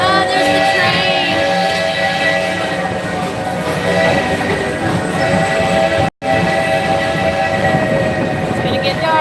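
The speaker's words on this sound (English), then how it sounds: "there's the train." Train passing at Magic Kingdom, a loud, sustained rumble with tonal squeals and horn-like tones running throughout, close by, with crowd chatter mixed in underneath.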